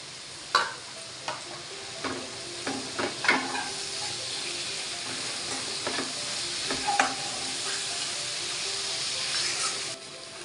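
Ground cucumber paste goes into a pan of wild monsoon shevla vegetable, raising a steady sizzle with repeated scraping and stirring clatters of a spoon against the pan, close and fairly loud.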